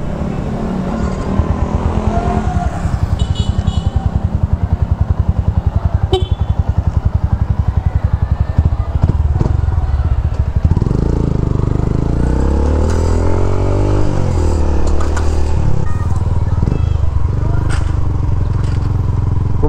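A motorcycle fitted with a new Domino switch runs loudly and steadily throughout, engine rumble and road noise close by, shifting in pitch as it rides on.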